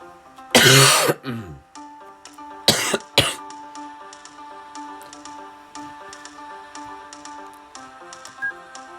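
A few harsh coughs up close, a short burst then two more, followed by soft ticking and tapping in a quiet room.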